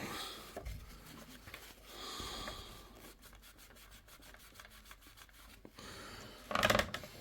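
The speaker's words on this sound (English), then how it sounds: "So next part is I will be cleaning the thermal paste off the CPU here." Thermal paste wiped off a CPU during a basic gaming PC build, heard as soft close rubbing and scrubbing strokes in a quiet room, with a brief louder scrape near the end.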